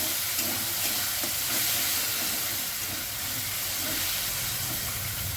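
Spice paste sizzling steadily in a pan after beaten sour yogurt is added, a loud continuous hiss with a faint crackle, close by and with no talk, for a pointed gourd and grated paneer dish.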